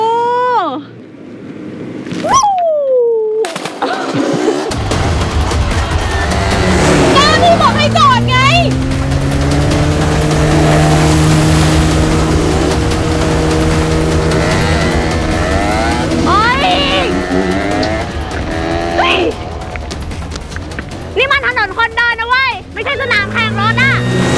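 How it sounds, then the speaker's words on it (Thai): Jet skis and motorcycles racing side by side, engines droning and whining loudly and steadily for most of the stretch, with people shouting and talking over the roar. "แข่งเจ็ตสกีกับมอเตอร์ไซค์ไม่กลัวตายกันเหรอวะ"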